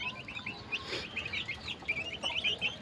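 Rhode Island chickens clucking and chirping softly in a yard, a busy overlapping chorus of short calls at moderate distance.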